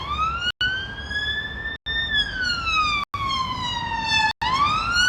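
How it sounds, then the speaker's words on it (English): A police car siren wails steadily up and down in long sweeping tones, loud and continuous apart from a few brief cut-outs, with no voices over it. "That's police, right?"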